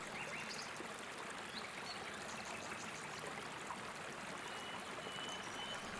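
A river flows steadily past plants rooted in its bed, giving a continuous soft rushing and trickling wash with no voices, faint and even throughout.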